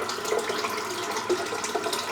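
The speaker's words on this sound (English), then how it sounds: "I'm just going to rinse the razor under the warm water" Warm tap water runs over a Pearl Flexi electric razor being rinsed, a steady nearby splashing stream lasting a couple of seconds.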